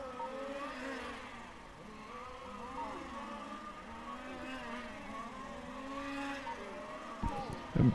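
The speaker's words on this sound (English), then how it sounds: "between Rico Moilerman and Britt. Rumboats, those two coming down the main straight now" Race cars from a circuit racing series run down the main straight during a track race, a steady broad engine drone with rising and falling pitch sweeping past, with a commentator talking throughout and a brief louder burst at the end.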